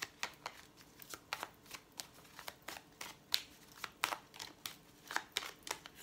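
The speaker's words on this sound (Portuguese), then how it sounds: "Eu vou separar a carta do Vladimir para esclarecer o geral." A deck of Lenormand cards being shuffled and separated, with crisp, quiet snaps and riffles repeating in a loose, uneven rhythm, heard up close against a near-silent background.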